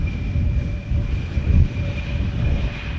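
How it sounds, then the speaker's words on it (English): A KLM Embraer 175 jet arriving at Amsterdam Schiphol from Southampton, a steady low engine rumble with a thin high whine, moderately loud and continuous. "Embraer 175 arrived from Southampton,"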